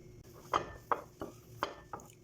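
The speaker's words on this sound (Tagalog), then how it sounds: "Ayan, tanggalin natin itong mga kutsara." Metal spoons clatter against a cooking pot while being pulled out during preparation of Ilonggo bitso-bitso, five sharp clinks spaced about every third of a second, close and distinct over a quiet kitchen background.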